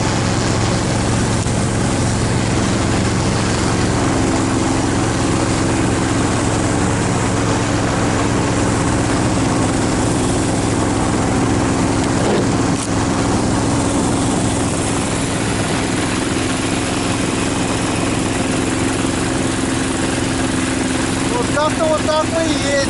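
An off-road vehicle, nicknamed Uraganushka, grinds through untracked taiga on a fishing trip. Its engine holds a loud, steady droning hum with a rattling mechanical texture the whole time, and a voice can be heard over it.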